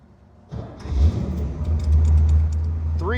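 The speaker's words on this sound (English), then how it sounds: "Engine starts up and sounds really nice." A restored 1966 Chevrolet Corvette's 327 300-horsepower V8 cranks and catches, then settles into a deep, rumbling idle close by, with a few clicks and rattles.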